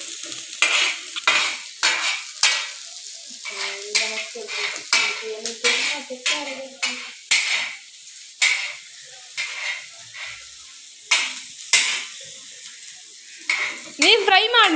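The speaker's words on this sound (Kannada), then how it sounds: "ಸರಿ ಫ್ರೈ ಮಾಡುವ ಗಾಯ್ಸ್" Food fries in a hot pan with a bright, constant sizzle and hiss, punctuated by a steady run of scraping stirs, while voices talk faintly in the background.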